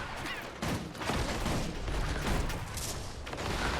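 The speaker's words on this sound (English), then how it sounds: "I shoot my gun." Gunfire from a gun in the video game Guild Wars 2, a dense, continuous volley of shots with booming low thuds running throughout, loud and close with no talking.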